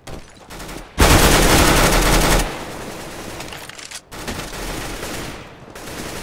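Gunshots in the video game Counter-Strike GO: a loud, sharp burst of fire at close range, then quieter scattered shots and game ambience.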